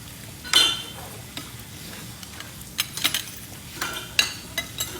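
Food fries in a pan with a steady soft sizzle while a utensil stirs it, scraping and clinking against the metal in several irregular, close knocks.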